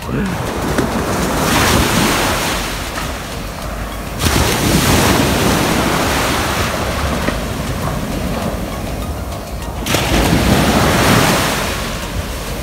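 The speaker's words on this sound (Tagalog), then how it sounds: "naririnig mo yung ganyang alon. Alon sa umaga." Ocean waves wash onto a beach on a cold winter morning in steady surges, loud and close, with a constant roar of surf and some wind noise between the breaking swells.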